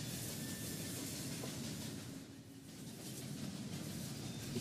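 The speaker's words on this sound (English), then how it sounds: "Trains are always coming faster than they appear to be." A train rushes past in the video game Murdered: Soul Suspect, a loud, steady rumbling roar with hissing that dips briefly midway and then swells again, with no talking.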